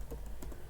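Code being typed on a computer keyboard, a few quick, faint key clicks in under a second, close by.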